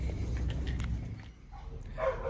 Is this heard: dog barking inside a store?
yes